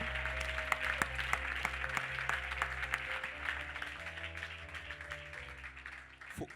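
Church congregation at a special worship service applauding and cheering for the Holy Spirit, steady dense clapping with sustained background music and voices throughout.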